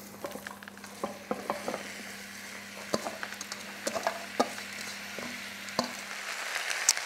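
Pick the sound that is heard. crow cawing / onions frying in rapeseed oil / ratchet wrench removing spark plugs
onions frying in rapeseed oil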